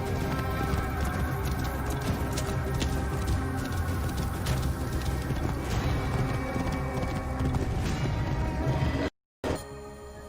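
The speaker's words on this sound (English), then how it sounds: "This must be Mered's horse." Horse hooves clip-clop steadily and fairly close in the Assassin's Creed Origins video game, with ambient game sound around them and a short dropout near the end.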